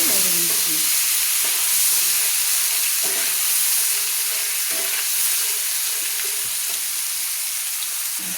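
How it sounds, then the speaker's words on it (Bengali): Onion paste being stirred as it fries in a kadai for a Bengali potol chingri (pointed gourd and prawn) curry, giving a steady close sizzle with soft scraping stir strokes throughout. "দিয়ে ভালো করে নেড়ে নিচ্ছি"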